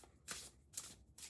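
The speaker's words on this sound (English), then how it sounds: "Anyway, shuffling," A deck of oracle cards is shuffled in three quick, soft riffling bursts, close and quiet, with no voice.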